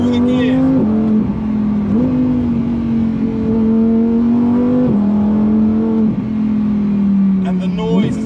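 A Lamborghini sports car engine revving toward 8,500 RPM, its loud, steady tone climbing, dipping sharply at each upshift, then climbing again through successive gears, heard from inside the car.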